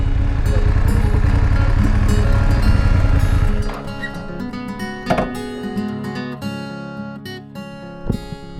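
A motorcycle engine roars steadily up close for a few seconds, then cuts out, leaving quieter rustling and faint background sounds.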